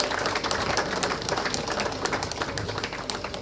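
An audience gives a round of applause for Right Honorable Kadaga: dense, continuous clapping from a crowd in a hall, steady throughout with no voices on top.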